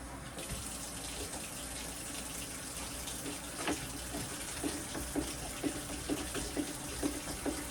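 A kitchen tap runs steadily, a continuous close gush of water filling a container, with faint clinks and knocks sounding over the flow.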